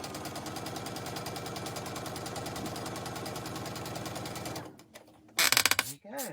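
A sewing machine stitches a quilt block onto a sashing strip, a steady rapid mechanical rattle running for several seconds before it stops, followed by a few brief clicks and handling noises.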